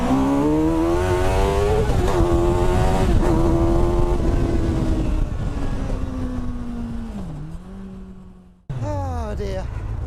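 A light car with a Honda CBR1000RR motorcycle engine revs hard while driving, loud and close. The high engine note climbs and holds, then drops sharply after a gear change and rises again.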